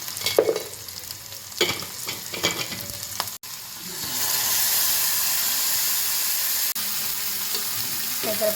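Moong dal with chopped onion fries in hot oil while being stirred: a few scraping clatters first, then a loud, continuous sizzle with steam hiss that carries on to the end.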